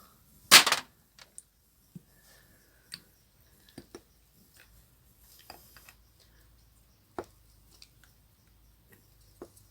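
A glass jar of tomato preserve has its metal lid pressed shut with one loud sharp click, followed by faint scattered ticks and taps.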